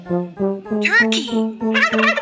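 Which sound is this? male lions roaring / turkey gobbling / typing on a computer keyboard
turkey gobbling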